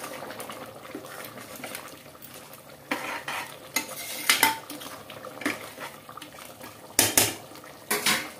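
Chicken curry cooking in a pot on a stove, with a spoon scraping and clinking against the pot in irregular bursts over a soft background simmer.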